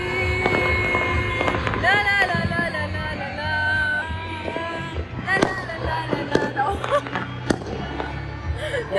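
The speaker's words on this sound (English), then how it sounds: "the people started lighting up fire lanterns and fireworks" Fireworks burst and crackle during the Makar Sankranti festival in India, with repeated pops and whistling rockets over a busy outdoor crowd, and voices are heard amid the display.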